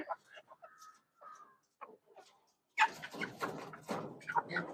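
Chickens being fed banana flower cluck and chirp softly in short bursts, then a louder run of clucking and squawking fills the end, close by.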